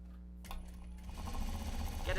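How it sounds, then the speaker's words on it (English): A sewing machine starts up after a short pause and stitches in a fast, steady whir, rising in loudness toward the end. "Get it under the presser foot as fast as I can."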